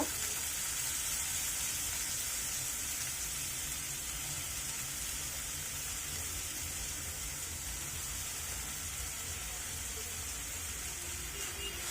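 Soaked masoor lentils fry in a pan, giving a long, even sizzling hiss that stays steady and moderately loud for the whole stretch, with no clear talk over it.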